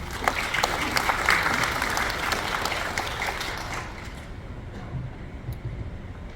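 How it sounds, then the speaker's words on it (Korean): An audience at a scholarly presentation in Gimcheon applauds to welcome a speaker, a steady broad clatter of many hands that gradually thins and softens toward the end. "큰 박수로 모시겠습니다."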